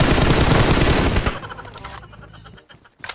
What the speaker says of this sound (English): Balen, ada gunshot kan?